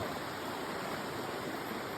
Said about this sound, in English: Okay, I'm up here at the river.